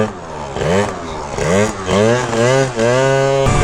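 Scooter engine with a 70cc Minarelli horizontal swap, a CP 21 carburetor and a cheap performance exhaust, revving up and down in repeated rising and falling sweeps, loud and close.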